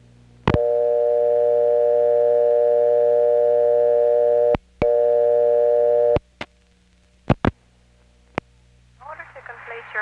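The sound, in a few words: payphone signal after dialing vacant level 9, step-by-step exchange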